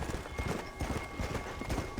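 Horse hooves clip-clop steadily in the Western video game Red Dead Redemption, a fast, continuous rhythm of clopping steps over a busy game soundscape, with a voice faintly underneath.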